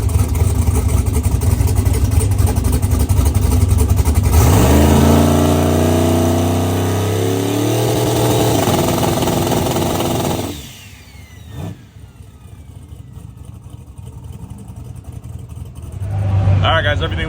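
A drag car engine at an LS event revs hard and holds against the two-step launch control, a loud, rising roar that drops away abruptly, leaving quieter background noise and a brief final burst.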